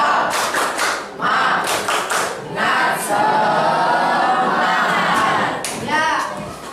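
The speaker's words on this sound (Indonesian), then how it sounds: "Ya, coba tepuk semangat." A school class performs a rhythmic spirit clap, bursts of patterned clapping followed by children's voices chanting together in a roomy classroom, loud and close.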